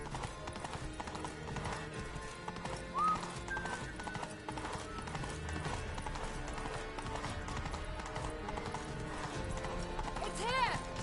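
Roach the horse galloping in a video game, steady clip-clop of hooves running continuously under game music and ambient noise, with voices talking over it.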